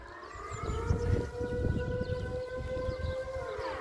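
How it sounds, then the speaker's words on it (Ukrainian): A civil defense siren in a Dutch village, sounding its monthly noon test, wails steadily, its pitch gently sliding, carried over a low outdoor rumble with no voices. "Це сирена тренувальна в 12 годин дня"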